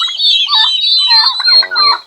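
Turkeys gobbling close by, a run of high, warbling calls ending in a rapid rattling burst, with other fowl calling over one another.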